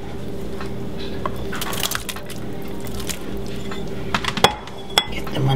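Meatballs drop into a pot of Italian tomato gravy with soft wet plops, squishes and a few clinks of utensil against the pot, close by over a steady kitchen background.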